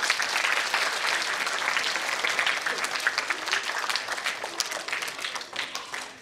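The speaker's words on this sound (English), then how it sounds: "give your parents a round of applause" An audience at a taekwondo event applauds parents, a loud, sustained burst of many hands clapping that gradually thins out toward the end.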